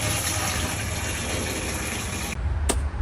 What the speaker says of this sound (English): We're going to go ahead and fill this up about halfway with water